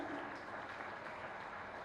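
Audience applause for award winners at a school foundation day and investiture ceremony, a continuous even roar of clapping from a large crowd, filling the whole stretch without voices on top.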